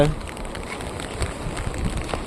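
Rain pours down on the beach at Thoothukudi's new harbour, making a steady, close hiss with scattered crackling patter of drops that runs on without a break.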